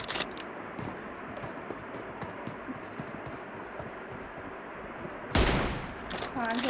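Gunfire in a PUBG Mobile firefight, with a long run of crackling bursts followed by a sudden loud, close shot or blast near the end.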